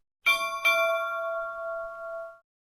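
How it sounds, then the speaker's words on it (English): Ship's bell chime from a talking clock: two quick bright bell strikes close together, the second ringing on with a clear sustained tone that fades out after about two seconds, in a quiet setting. "ship's bell"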